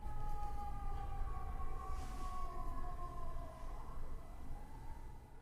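Outside a house, a faint siren wails in the distance, its tone sliding slowly and steadily beneath a low background rumble.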